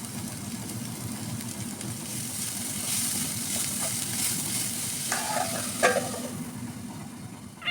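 Onions and cabbage sizzle steadily in a hot pan while being stir-fried, with a close, continuous frying hiss and occasional scraping stirs.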